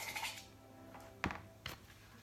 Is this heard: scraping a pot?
yes